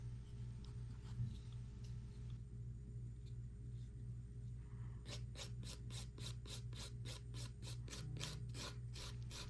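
Light rasping rub of a nail buffer scuffing the shine off a natural nail plate, faint and close, with a quick run of rhythmic short strokes in the second half.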